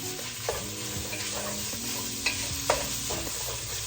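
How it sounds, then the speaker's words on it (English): A spoon stirs and scrapes across the bottom of a pan of Zuppa Toscana soup base before deglazing, with steady sizzling and a few sharp scraping clicks near and clear, no talking. "I'm still moving with the bottom of my pan, even though I'm going to deglaze the pan with the liquid"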